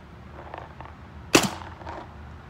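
A Tippmann A5 paintball marker fitted with a Palmers Pursuit stabilizer fires a single sharp shot over a chronograph, a crisp pop with a short tail amid quiet background noise.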